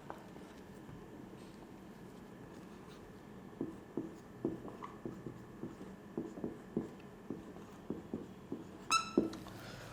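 Marker or chalk writing notes on a board during a biology lesson, a faint series of short, rhythmic scratchy strokes in quick bursts, ending with a brief squeak, in a quiet room.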